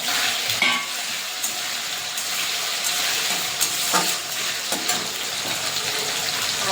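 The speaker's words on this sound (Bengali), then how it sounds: "কাজুটা হালকা এই যে ভাজা হয়ে যাচ্ছে" Cashews frying lightly in ghee for pulao give off a continuous soft sizzle, with a few clicks from stirring, heard close up with no talking.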